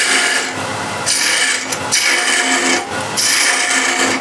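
A small quarter-inch, 6 mm woodturning tool cutting wood on a lathe, with close, loud rasping scrapes in three longer passes separated by brief gaps.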